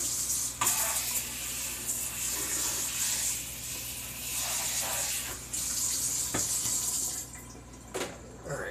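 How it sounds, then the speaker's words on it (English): Tap water running into a kitchen sink to rinse out a bowl, a steady close hiss of flow with a few brief splashes and clatters, no voices. "let's go ahead and rinse this bowl off."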